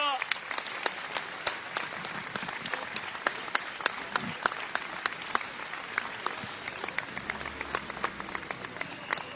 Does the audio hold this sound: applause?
yes